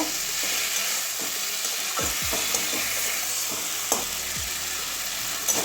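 Greens, potato and spices sautéed in a pan make a loud steady sizzle, with a few scraping stirs of a spatula against the pan.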